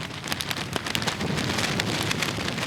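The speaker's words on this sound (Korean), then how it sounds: "그러나 비가 오면서 상황은 심각해졌다." Rain falls steadily on a crab fishing boat at sea during a storm, a dense, continuous patter of drops hitting the deck and surfaces, close and loud with no voices.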